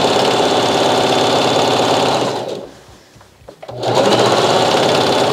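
A sewing machine fitted with a J foot stitches a double-layer satin bonnet in a fast, steady mechanical chatter. It slows to a brief near-stop midway, then runs at full speed again, close and loud.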